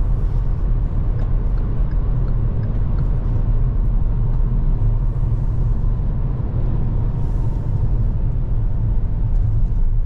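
Steady low road rumble and tyre noise from a 2023 Kia Seltos Nightfall Turbo AWD rolling along an off-ramp, an even, continuous drone heard from inside the cabin with no talking.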